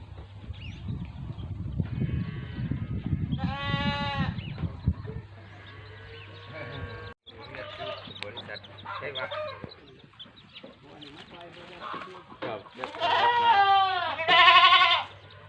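Goats of a spotted breed bleating repeatedly from pens on a farm of about 160 animals in four enclosures, loud harmonic calls from several animals overlapping, with a low steady hum underneath and chickens clucking nearby.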